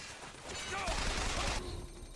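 Rapid machine gun fire from the video game BioShock Infinite, a dense burst of loud overlapping shots lasting over a second amid game sounds.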